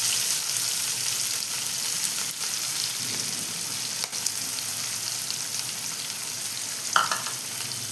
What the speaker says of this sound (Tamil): ஸ்பைசஸ் பொரிஞ்சதும் வெங்காயம் போடுறேன்.